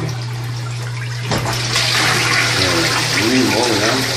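Water gushes from a tap in an accommodation bathroom, a loud steady close rush that builds after a soft hum, while someone talks over it.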